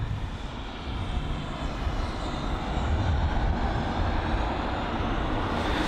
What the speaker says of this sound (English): the 320neo taxiing to the gate area, one of many Lufthansa aircrafts that we've seen today